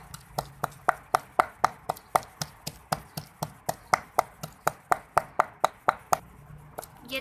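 Steady rhythmic chopping-style taps, about twenty evenly spaced strikes at close range, as onions are ground by hand for mint chutney; no talking.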